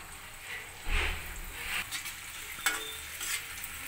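Frying vegetable manchurian sizzles softly in a pan as soy sauce and vinegar are stirred through, a quiet close hiss with a few scraping spoon strokes and light clinks, and no talking.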